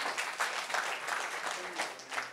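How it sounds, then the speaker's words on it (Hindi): An audience at a Buddhist vihara gathering in Rajnandgaon applauds after a correct quiz answer, a dense, steady round of clapping from many hands that swells in waves, with faint voices mixed in. "जोरदार ताली।"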